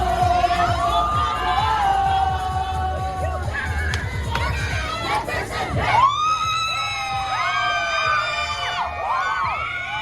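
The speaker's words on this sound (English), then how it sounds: "We had some females in the back screaming, going crazy, going wild." A large crowd in Times Square, New York, screams, whoops and cheers loudly and continuously, with high shrill voices rising over the din; a voice talks briefly early on, with excitement swelling after midway.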